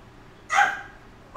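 A dog gives two sharp barks at close range, a strong one followed by a second just starting after a short pause. No one speaks.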